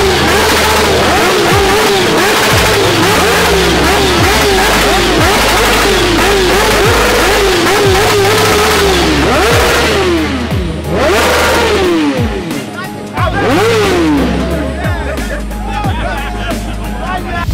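A Suzuki Boulevard M109R cruiser motorcycle revs loudly and repeatedly at a bikers' convention in Abeokuta, its engine rising and falling in several bursts over a dense crowd babble and nearby chatter.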